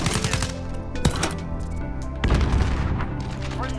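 SCAR rifle fire in Modern Warfare: loud, dense gunfire with sharp shots around one second in and a heavier burst of reports partway through, over continuous game noise.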